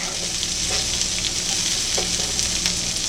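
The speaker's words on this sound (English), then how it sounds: "Give them a stir around." Sliced ingredients frying in a pan with a steady sizzle while being stirred around, the spoon scraping now and then, close and continuous with no talk.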